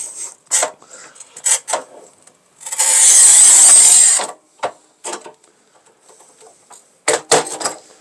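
A Kaufmann TopLine 630 or SIGMA 62 NEX manual tile cutter runs across ceramic tile in one loud, steady rasping score lasting over a second, set among scattered clicks and knocks of handling.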